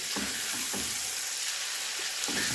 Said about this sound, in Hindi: बोनलेस चिकन यह है, ये डाल दूँगी। और इसको भी हम फ्राई कर लेते हैं इस तरीके से।